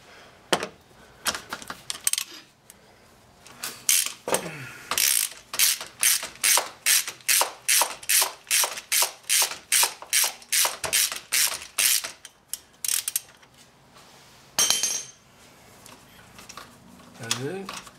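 Ratchet wrench turning a spark plug socket deep in a Cadillac STS engine: a long, steady train of loud, evenly spaced metallic clicks close by, with brief pauses and scraping handling noises before and after.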